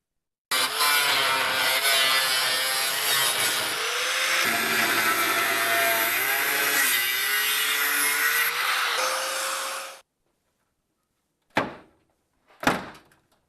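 Thick fiberglass is cut and ripped out of a VW camper van with a loud, continuous, grinding power tool for about ten seconds, then two short sharp cracks follow.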